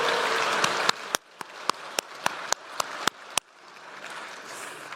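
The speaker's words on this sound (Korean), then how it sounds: "이럴 땐 박수 한번 치셔도 괜찮을 것 같습니다." Scattered applause in the National Assembly chamber fades within a couple of seconds into a few isolated claps, then leaves the room near silent.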